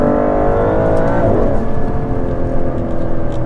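Aston Martin DBS Superleggera, a 725 hp luxury sports car, accelerating hard on a small road, its loud close engine note rising steadily then shifting gear, with no talk over it.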